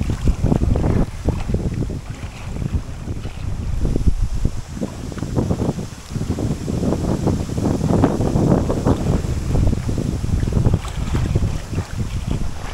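Strong gusting wind buffets the microphone while a canoe is paddled on a lake, with heavy irregular low rumbling bursts, wind noise and water sloshing near and loud throughout.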